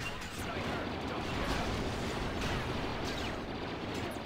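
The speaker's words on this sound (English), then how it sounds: "Okay, grenade." Loud rumbling blasts and crackling gunfire fill a Star Wars Battlefront 2 battle, with a grenade explosion booming dense and continuous throughout.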